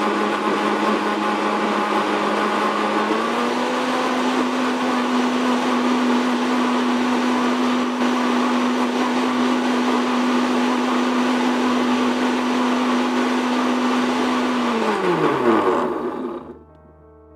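An electric blender whirs steadily as it purees celery and blueberries for juice, a loud, even motor hum that holds for about fifteen seconds before winding down and stopping.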